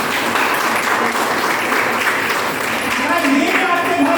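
A seminar audience at an AWPL event claps loudly in a dense, continuous burst of applause that fills the whole moment, with a voice faintly audible beneath it.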